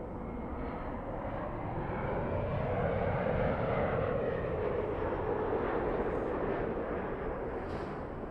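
A Delta airliner departing Los Angeles airport, its jet engines roaring in a broad, steady rumble that swells slightly and holds, loud and continuous with no talk.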